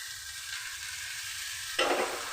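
Chopped spring onion greens hit a hot pan of frying poppy seeds, a steady bright sizzle that jumps louder and fuller as the greens drop in, heard close with no talking.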